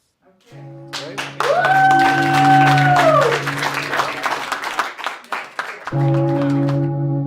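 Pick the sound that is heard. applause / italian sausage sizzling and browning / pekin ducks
applause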